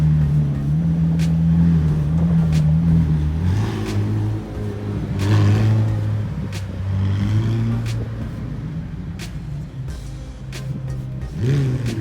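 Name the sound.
McLaren Senna accelerating hard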